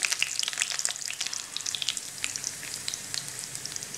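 Garlic cloves and curry leaves crackle and spit in hot cooking oil for a curry, a steady close sizzle with frequent sharp popping bursts and no voices.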